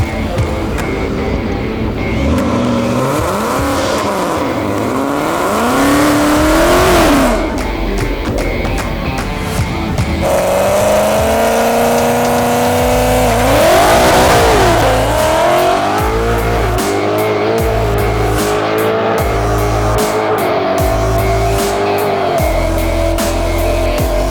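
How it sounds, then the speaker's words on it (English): A Mopar car revs hard and spins its tire in a burnout, loud rising and falling engine wails with tire squeal, sustained and close throughout. "it spun the tire."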